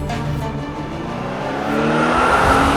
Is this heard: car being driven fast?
yes